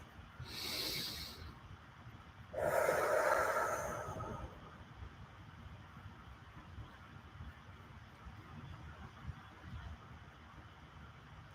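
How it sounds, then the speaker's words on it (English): Two deep breaths, a long sharp inhale and then a fuller, louder breath soon after, followed by quiet background hiss. "Let's take another deep breath."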